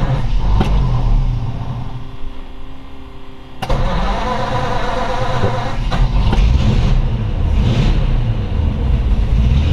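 A 1945 Ford pick-up truck engine cranks and catches partway through, then settles into a steady, loud mid-pitched idle that continues close by with no talking.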